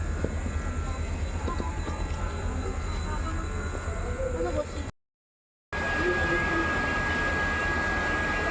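Inside a moving Indian passenger train, a continuous rumbling roar with rattling fills the carriage, broken by a brief total dropout, and then resumes with a steady high whine over the din.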